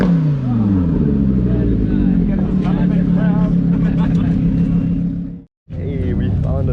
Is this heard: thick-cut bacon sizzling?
no